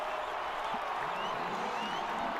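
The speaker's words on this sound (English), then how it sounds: "Give the Brazilian fans something to cheer about." Brazilian football fans roar in a stadium during a Brazil versus France match, a dense, steady wall of crowd cheering and applause with no single voice standing out.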